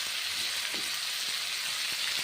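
Pumpkin curry cooking in a pan, a steady close sizzle and fry with occasional soft stirring taps, continuous and fairly loud without talk.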